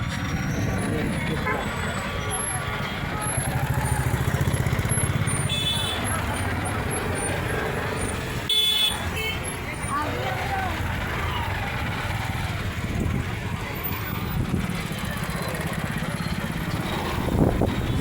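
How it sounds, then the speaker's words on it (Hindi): Dense street traffic jam in Bhubaneswar, with a steady near mix of car, motorcycle and bus engines filling the whole stretch; voices are faintly present in the crowd. "पूरा जाम हो चुका है।"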